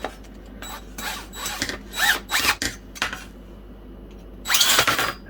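A drill spins a rivet in a brass quarter light window frame, whirring in several short bursts of uneven length with brief stops between them, close and fairly loud.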